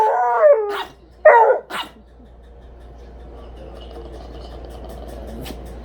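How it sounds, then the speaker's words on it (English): A hound dog gives a couple of short howling, yipping cries near the start, then falls quiet under a low steady background hum. "What's a hound dog say?"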